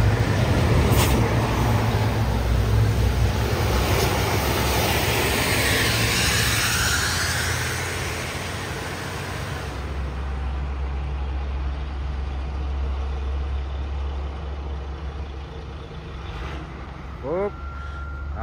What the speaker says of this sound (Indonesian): truk tangki yang mundur tadi kini menanjak lagi.